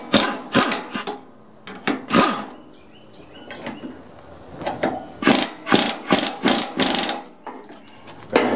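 A large crescent wrench works at rusty mower deck bolts on a Snapper rear-engine riding mower, giving a run of sharp metallic clicks and scrapes in uneven bursts, close up with no talking.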